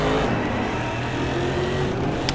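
A race car engine in the racing game Race Driver Grid drones loud and close at high revs, steady and alone across a couple of seconds.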